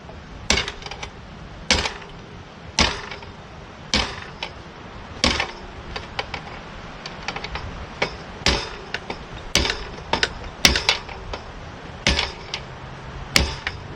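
Sharp metallic hammer blows on a seized Yamaha TT-R125 dirt bike, struck at a steady pace, about one every second, loud and close with faint clinks in between.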